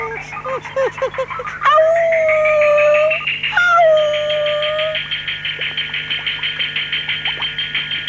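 A dog named Epsilon, left at home alone, howls and whines in long rising and falling cries, close and loud, sliding up into drawn-out wails, then breaking into a run of short, rhythmic yelps and whimpers.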